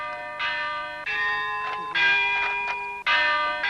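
Church bell in a bell tower tolling four times in a steady slow rhythm, each loud ringing strike decaying into a sustained hum before the next.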